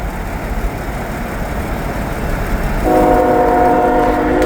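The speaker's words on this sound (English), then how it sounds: "we got another train coming down the line here." A train rumbles steadily past nearby at a level crossing, and partway through a loud, sustained horn blares over the noise.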